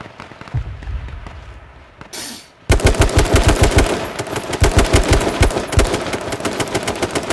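Video game gunfire: a few scattered shots in a quieter opening, then a loud sustained automatic burst of rapid rounds, close and dominant with little else audible.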